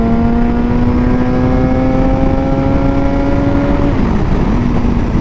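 A Suzuki GSX-R 750 sport motorcycle engine droning loud and close at steady revs, its pitch briefly dipping as it drops two gears before settling back to a constant howl.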